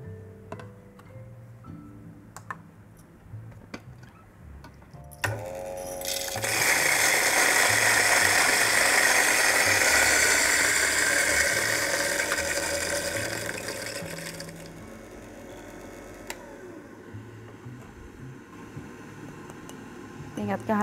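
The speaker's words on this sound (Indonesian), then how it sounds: "Baru aku giling kopinya." Coffee beans are ground medium in a coffee grinder for Vietnamese drip coffee, a loud continuous grinding whir lasting several seconds amid clicks and handling sounds, with talk nearby.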